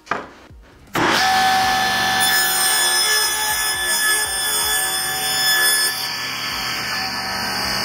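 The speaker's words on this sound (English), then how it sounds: "Let's go ahead and cut these pickets up." A power saw cuts wooden fence pickets, 5/8 inch thick, in one loud continuous run after a brief sharp start, the blade's whine steady throughout.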